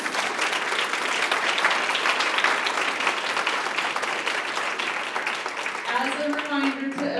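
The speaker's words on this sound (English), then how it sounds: "another huge round of applause for Logan" An audience gives a speaker a sustained round of applause, dense and fairly close, fading slightly as a voice starts talking over the last second.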